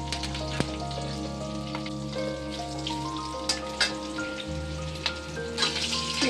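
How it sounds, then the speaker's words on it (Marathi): A tempering of mustard seeds, cumin, curry leaves and green chillies sizzles in hot oil for a peanut-flour curry, a soft continuous fizz with a few sharp pops over a low steady hum. "राई जिरं टाकले, कढीपत्ता, 2-4 हिरव्या मिरच्या,"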